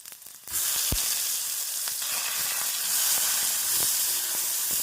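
Steady, loud sizzling of onions and tomatoes frying in a hot pan, with a brief quieter moment at the start before the crackle settles into a constant hiss.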